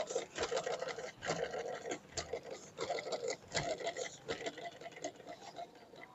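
A sewing machine, just repaired by tightening the shuttle screws, runs nearby in short bursts of rhythmic ticking and clacking, starting and stopping.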